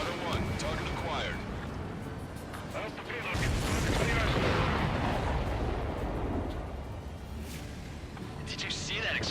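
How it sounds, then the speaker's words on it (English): A missile slams into a supply ship in the jet combat game Ace Combat 7, setting off a heavy, rolling explosion that swells into a dense roar midway and stays loud, with voice chatter mixed in. "Did you see that explosion? Looks like that's one of them down."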